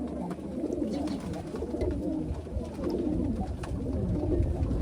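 Giribaj pigeons coo steadily at a pigeon farm in Sonamasjid, Rajshahi, a dense overlapping chorus of low, soft calls from many birds close by, continuous throughout with no voices.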